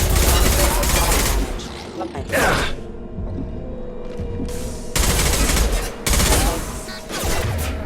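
Colony defense guns in Mass Effect Legendary Edition fire in loud, dense automatic bursts, separated by brief lulls filled with mechanical hum and whooshes.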